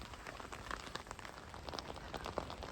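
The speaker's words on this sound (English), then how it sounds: "Just a little wet meander under the rain" Rain patters softly and steadily during a bike tour in the Engadine, a faint, even wash of drops with no voices.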